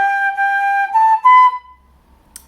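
Traditional flute phrase climbing through high G, high A and high B, pure breathy held notes rising in steps, played close and loud, then stopping into near-silence with a faint rustle.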